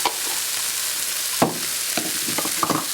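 Pepper powder, cumin seed powder and salt fry in a hot pan with a steady dry sizzle, broken by a few sharp scraping stirs, close up and with no voices.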